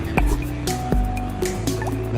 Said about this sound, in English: The natural sounds of the water being heard when a golf ball has been hit into it.